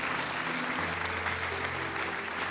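A church congregation breaks into loud, sustained applause, a dense wash of clapping that fills the room with no speech.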